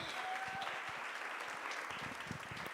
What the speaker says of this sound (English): So one huge round of applause.